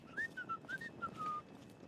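Whistling in the video game Fallout 3: a short, tuneful run of clear whistled notes, light and fairly quiet, over a soft background.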